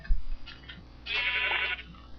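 A sheep in the Minecraft video game gives a single bleat of about half a second near the middle, fairly loud and close, following a short low thump, with no one talking.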